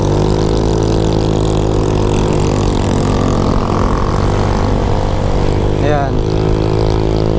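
A Honda Click V2 motorcycle fitted with a JVT aftermarket exhaust pipe runs with a steady, droning engine note that shifts slightly as it revs, loud and continuous beneath someone speaking.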